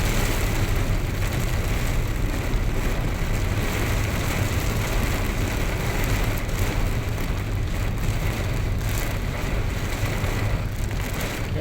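Heavy downpour on a road heading toward Commonwealth, a dense, steady hiss of rain pelting the surface with a low rumble of traffic underneath, continuous and fairly loud throughout.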